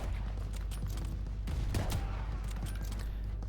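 Steady, fairly faint machine-gun fire from Call of Duty: Vanguard rattles under a constant low rumble of battle, with a slightly stronger burst in the middle.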